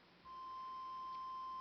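A steady electronic tone from a homemade keyboard's frequency divider, the main input to its octave counter, switches on after a brief moment and then holds one clear, unwavering pitch, fairly faint and alone.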